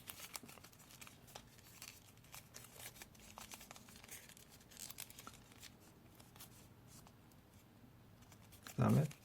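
Paper cut in half for origami, crisp scattered snips and rustles close by, with a louder handling thump at the end.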